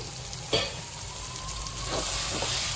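Steady sizzling from a pan of chimbati (flat beans) being stirred after chopped coriander leaves go in, with a few soft scraping strokes of the spoon over the constant frying hiss.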